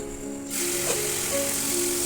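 Cumin and coriander powder begin frying in a pan, a sudden hiss that starts after a brief quiet moment and then holds steady and fairly loud.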